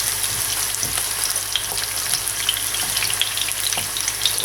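Yellow onion sizzles steadily in a hot pan, a continuous crackling fry with small pops and occasional stirring, close and unbroken with no talking.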